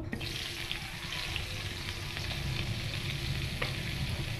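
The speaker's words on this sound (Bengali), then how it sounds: "পেঁয়াজটাই ভালো করে ভেজে নেবো।" Continuous loud sizzling of onions and green chillies frying in a pan, a dense crackling hiss with faint stirring scrapes, no voices.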